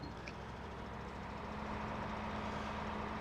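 Big tractor engine in Farming Simulator 17 running steadily throughout, a low continuous rumble with a faint hum that grows slightly louder toward the end.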